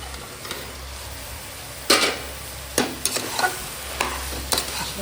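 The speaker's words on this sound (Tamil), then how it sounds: "போட்டு நல்லா கலக்கி விடுங்க." Mushrooms fry in a pan for biryani as a spoon stirs them, with a soft steady sizzle broken by several distinct scraping strokes at irregular intervals.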